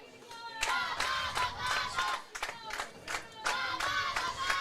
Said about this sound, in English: Big crowd here on hand.